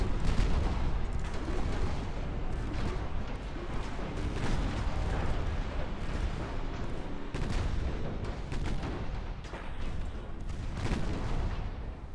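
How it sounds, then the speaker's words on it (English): Repeated 6-inch naval gun salvos from a 1930s British warship in a naval combat video game boom continuously, dense overlapping blasts and rumble filling the whole stretch at steady, loud intensity. "a whole bunch of 6-inch shells does indeed do the job"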